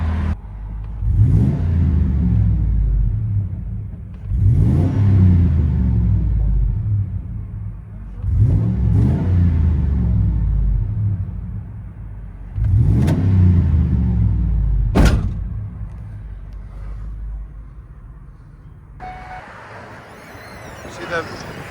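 Ford F-150 pickup with a 5.4L V8 and dual Flowmaster Super 10 mufflers, revved in four strong, rising bursts with loud deep exhaust rumble between them, then a sharp blip before settling to idle.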